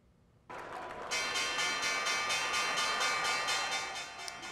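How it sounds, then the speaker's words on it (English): The Wall Street opening bell on the stock exchange floor, a loud, continuous electric ringing with a fast pulsing rattle that starts abruptly and holds steady for several seconds over a low room murmur. "Lots of applause as Wall Street rings the opening bell this morning."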